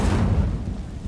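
An Incendio fire spell igniting dry vines in the video game Hogwarts Legacy, heard as a brief, loud, deep whoosh that rumbles and swells for about a second.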